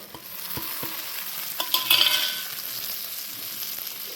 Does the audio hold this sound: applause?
no